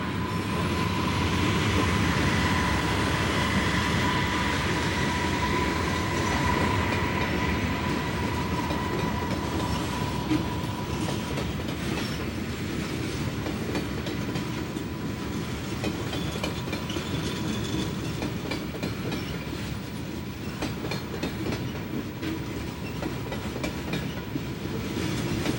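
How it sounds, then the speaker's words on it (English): A Monongahela Railway train rolls past on the Miracle Run branch in West Virginia, a steady loud rumble of wheels on rail with a sustained squeal and rhythmic clatter running the whole time, no voices. "Here we see the same train on the Miracle Run branch."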